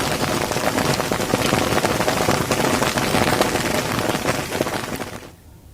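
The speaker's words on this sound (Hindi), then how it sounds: "आज सुबह से ही जोरदार बारिश हो रही है।" Heavy monsoon rain pours down in a dense, steady hiss of drops on surfaces, then drops away sharply at the very end.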